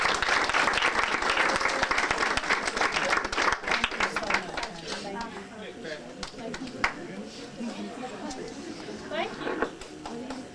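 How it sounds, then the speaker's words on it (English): Audience applause fills a school image-impact workshop, loud and dense at first, then thinning to scattered claps as voices and room chatter rise beneath it. "Let's give her another round of applause"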